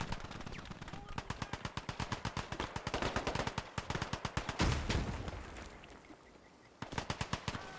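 Heavy machine gun fire rattles in rapid, sustained bursts during a Vietnam War battle in Gates of Hell, punctuated by a louder blast and a short lull before firing resumes.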